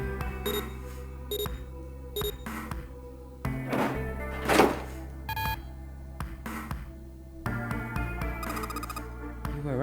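A door refuses to open in the video game 999: Nine Hours, Nine Persons, Nine Doors, with electronic beeps like keypad tones, dull thunks and a buzzy rejection tone sounding in short separate bursts.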